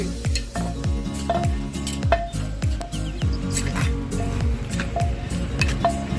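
Pounding and mixing of papaya salad in a large tray, a steady rhythm of dull thuds with wet squishing and clinking, loud and close, with no talk over it.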